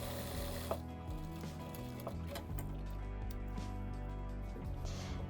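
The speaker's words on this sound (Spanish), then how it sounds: "me aseguro de coser en la línea recta que marqué" A sewing machine stitches a straight seam on a jacket pocket for a varsity-style jacket, its motor running steadily close by with short stops and restarts and light mechanical clicks, no voices.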